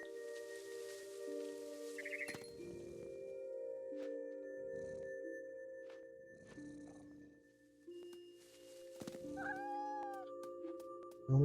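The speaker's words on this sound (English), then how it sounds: "Hear the purring" A cat in the video game What Remains of Edith Finch gives soft, breathy bursts of purring at irregular intervals, set over steady, sustained musical tones, with a few brighter chiming notes near the end.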